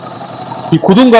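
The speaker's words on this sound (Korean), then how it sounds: "그리고 이 머플러 소리 어떤가요?" A Triumph Scrambler 1100 Sport Pro's air-cooled twin-cylinder exhaust idles with a steady low rumble, and a voice soon talks over it in this short stretch.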